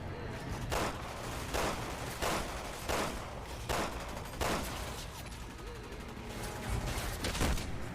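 Gunfire in Resident Evil 6 rings out as a series of heavy, evenly spaced shots, roughly one every three-quarters of a second, over a dense, loud background of game noise.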